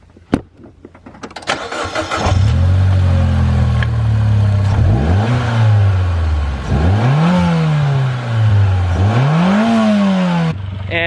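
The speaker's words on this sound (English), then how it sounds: "Gonna go ahead and do a couple revs for you" A car engine fitted with an Ultimate Racing upper intercooler pipe starts with a sharp crank, then idles loudly and close before several rising-and-falling revs, the last one dropping back to idle.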